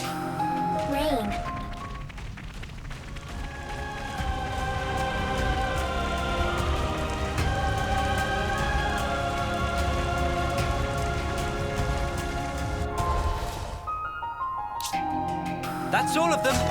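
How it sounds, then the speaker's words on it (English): Rainfall in the video game Xenoblade Chronicles 3, a steady hissing downpour lasting throughout with game music and a speaking voice layered over it. "Rain."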